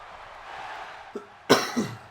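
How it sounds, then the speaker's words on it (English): A man coughing quietly, a small throat sound followed by a sharper cough and a brief trailing cough, close and alone against faint background hiss. "So I'm still coughing a little bit."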